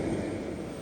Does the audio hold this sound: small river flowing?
no